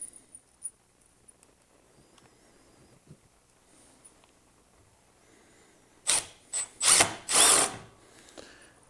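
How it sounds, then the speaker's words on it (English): A drill drives coarse pocket screws in a few short bursts near the end, loud and close after a quiet stretch of faint workshop handling noises. "Now let's throw in some screws. Now these are just coarse pocket screws."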